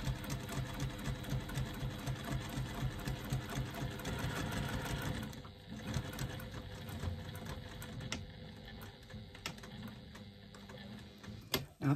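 A sewing machine stitches a divided pocket with a rapid mechanical clatter, including a short back stitch, in close bursts that pause and resume, with no one talking.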